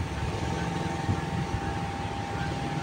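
A 3D Rota Aire electric fan under repair runs on its high setting, giving a steady loud whir with a constant hum tone and no break in the sound.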